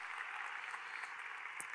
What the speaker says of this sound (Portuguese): Você pode aplaudir a Jesus aí no seu lugar